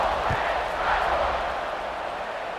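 A stadium crowd roars in a broad, sustained wash at kickoff in a College Football 26 video game, loud and continuous with a faint thump early on.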